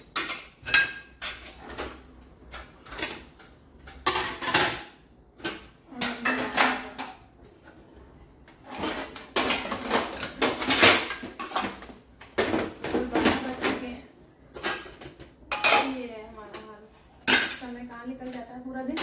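Steel dishes, pots and cutlery clatter and clink during dishwashing at home, in loud bursts of scraping and knocking separated by short pauses, close to the listener, with a few quiet words spoken.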